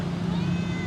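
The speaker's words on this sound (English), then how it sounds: "Oh, that's a cute cat." A cat meows in a single drawn-out call, fairly close, over steady background noise outdoors.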